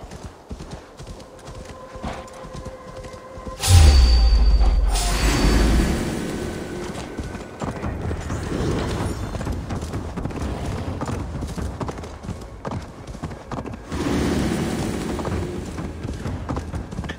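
Horse hooves clip-clopping at a gallop in Assassin's Creed Valhalla, a steady drumming rhythm that swells loudly after a heavy thud, with a brief whinny and continuous game sound around it.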